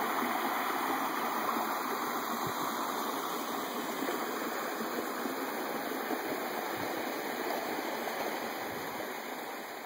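Indian Creek, a tributary of the Buffalo River, rushes in a steady broad wash of flowing water over rocks, close and continuous with no voices.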